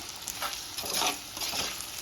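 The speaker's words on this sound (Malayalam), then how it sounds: "ഫ്ലെയിം കൂട്ടിയിട്ട് ഒന്ന് വഴന്ന് വരട്ടെ." Onions sauté in a pan over a high flame for a Kerala chicken curry, with a loud, continuous sizzle and bursts of scraping and stirring.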